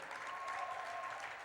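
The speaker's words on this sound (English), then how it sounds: "I want to give a warm round of applause for Katie." Sustained applause from the audience at a young worker summit plenary, a dense, steady wash of clapping throughout with no gaps.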